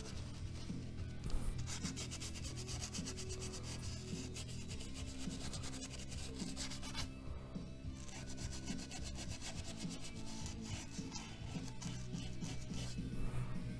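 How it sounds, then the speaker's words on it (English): A brush rubs white gesso onto a canvas with steady, close scratchy strokes that rasp and swish continuously, quiet and soft with no talking. "you could get all that ASMR canvas noise"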